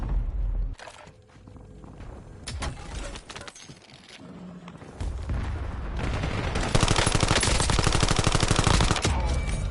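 Gunfire in the video game Call of Duty Warzone, with scattered single shots early, then rapid, dense automatic bursts building loud and continuous toward the end.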